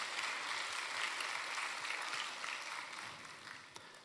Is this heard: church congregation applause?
yes